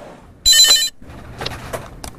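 A telephone at a traditional market call center gives one loud, bright electronic ring burst, followed by quieter clicks and handling noises of the receiver being picked up.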